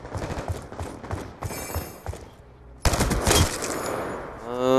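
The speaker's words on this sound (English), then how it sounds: "This gun's not that bad, but I can't shoot it real fast" Gunfire in a first-person shooter video game, with rapid bursts of shots and clattering reports that pause briefly and then resume louder over constant game noise.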